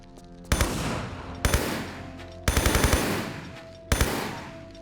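MP5 submachine gun fire in Tomb Raider III: four loud, close bursts of rapid automatic shots, each cutting off abruptly before the next volley, with no talk.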